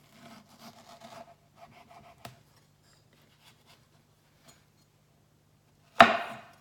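A knife cuts a skin-on mango alongside the pit, giving soft, faint scraping and rubbing strokes, then a single loud, close knock or thud near the end as the fruit or blade hits the board.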